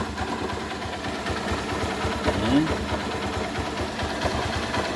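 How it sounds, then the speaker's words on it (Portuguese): A small engine runs steadily with a fast, even mechanical chatter, moderately close, while a person talks over it. "Então aí está o motor funcionando, né?"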